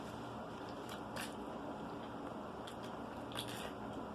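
Crunchy fried chicken wings bitten and chewed up close, with several sharp crackling crunches standing out over a steady wet chewing background.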